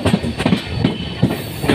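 The Jalandhar–New Delhi intercity express pulls into Yamunanagar Jagadhri railway station, its wheels loud and close with a steady clickety-clack rhythm of repeated thumps over rail joints and a constant rumble, no voices.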